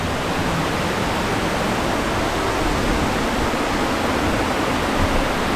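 Steady, full-band roar of Hulugan Falls in Luisiana, Laguna, a constant rushing wash of water heard close and loud with no break or voices.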